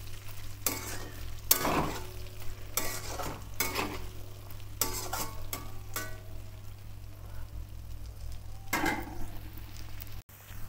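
Sliced bitter gourd sizzles steadily in a hot pan while a utensil scrapes and stirs it in repeated sharp strokes. The sizzle is close and continuous, and no one speaks.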